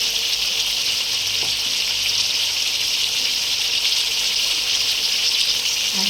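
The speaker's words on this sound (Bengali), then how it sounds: "আর শেষে এই মশলা ধোয়া জলটা" Spice-rinse water poured into a pan of chicken curry, a loud continuous gushing splash mixed with frying sizzle, close and steady throughout.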